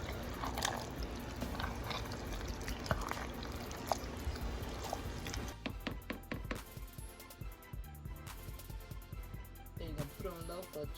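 Zucchini casserole ingredients with ground turkey and seasoning being stirred in a pan, a continuous close scraping and sizzling texture with wet clatter, growing more broken and irregular in the second half.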